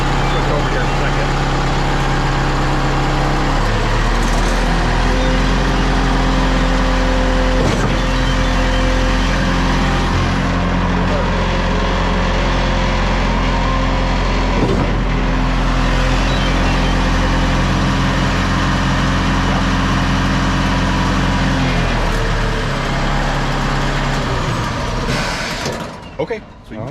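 A Schwing SP305 concrete pump engine runs loud and steady in forward pumping gear, with a constant heavy drone and a sustained hum, then drops away at the very end.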